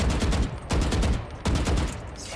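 Bursts of automatic gunfire spraying in Valorant, three dense rapid-fire volleys in quick succession, loud and continuous with only brief gaps between them.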